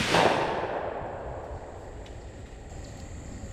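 A single shotgun blast at a trap shooting range, loud at the start and decaying into a long outdoor echo and quiet hiss.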